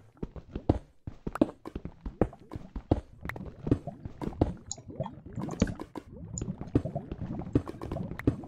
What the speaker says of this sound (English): I hear lava and it's getting annoying.